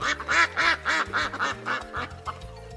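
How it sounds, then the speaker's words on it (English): Duck quacking loudly and close, a rapid run of about ten harsh nasal quacks in steady rhythm with no talk over them. "It's a duck. What sound does the duck make?"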